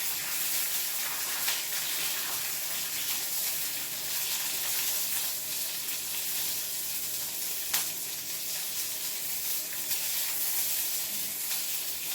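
A steady, dense sizzle of peanuts frying in oil in an iron wok, with occasional faint ticks and crackles, heard alone without any voices.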